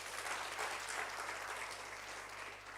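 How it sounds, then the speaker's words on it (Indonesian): A church congregation applauding during a sermon, a faint, steady wash of many hands clapping from a distance, continuous and even throughout. "Tepuk tangan dong buat Tuhan."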